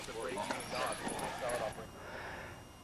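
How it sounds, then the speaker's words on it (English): A young dog, about eight or nine months old, barks in its first protection training session, several sharp barks spread through a short burst with a voice talking over them before the sound fades. "You've just seen some natural sound with this young dog who's 8 or 9 months old in his very first session."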